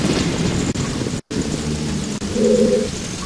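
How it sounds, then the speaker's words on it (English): Rain pours steadily and thunder rumbles loudly at the bottom of a well in The Legend of Zelda: Ocarina of Time, after the Song of Storms is played. The dense downpour runs throughout without any voices. "So it's raining in the bottom of a well."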